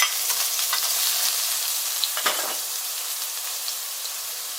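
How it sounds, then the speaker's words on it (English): Ingredients sautéing in a very hot pan, a steady loud sizzle with bursts of crackle and a few stirring scrapes throughout. "We're going to saute everything, okay?"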